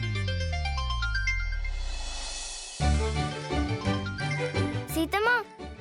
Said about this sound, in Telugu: ఆగాగు, ఫోన్ రింగ్ అవని.